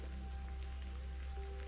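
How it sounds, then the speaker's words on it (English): Rain falling by a lake in damp woodland, a soft, steady patter of drops continuing evenly throughout, no voices. "very dank, a lot of rain."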